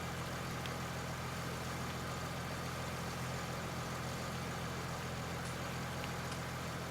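In Farming Simulator 19, a pressure washer sprays a tractor clean: a steady, dense hiss of spraying water runs without a break over a low, constant engine hum.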